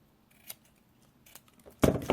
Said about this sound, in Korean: 다이아몬드 모양으로 잘라주시고